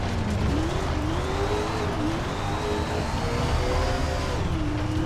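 Dirt late model race car in the SRX racing game at Diamond Grove, its engine droning steadily and loud throughout, pitch rising and dipping with throttle changes, with faint tire scrub and no voices.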